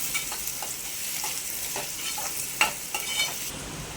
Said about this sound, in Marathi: चांगला गुलाबी रंग येईपर्यंत आपल्याला तेलामध्ये फ्राय करून घ्यायचा